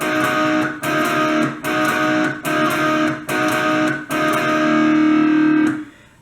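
Distorted electric guitar plays the intro riff of a song as a series of repeated chugging chord bursts with short breaks between them, ending on a held chord that cuts off.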